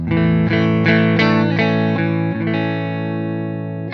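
An overdriven Marshall SV20 Plexi-style guitar amp with an overdrive pedal rings out with a series of strummed chords, about one every half second, sustaining and slowly fading at the end.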